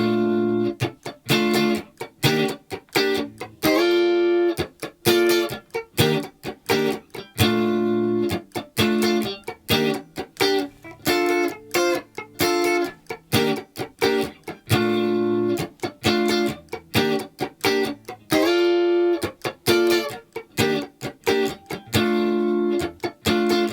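Guitar playing the chorus of a song at a slowed tempo: choppy, rhythmic funk chord strums with crisp muted accents, steady and close throughout, alone without voices.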